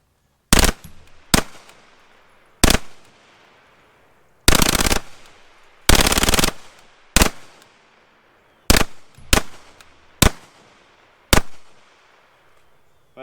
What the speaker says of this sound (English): use this other hand to bump fire it